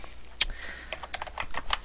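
Typing on a computer keyboard to enter an article title, a sharp loud keystroke followed by a quick run of lighter clicking keys, close by with no talking.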